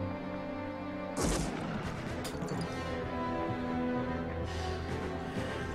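A sharp loud crack suddenly breaks a steady low hum, followed by a few fainter bangs and a noisy burst later on.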